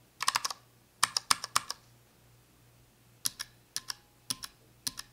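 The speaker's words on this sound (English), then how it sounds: "The Gateron Oil King sounds smooth, especially when compared to the Cherry MX Black." Keystrokes on Gateron Oil King mechanical keyboard switches, a quick burst of crisp clicks, then a pause, then scattered single presses. Close and fairly quiet, with a low steady hum underneath.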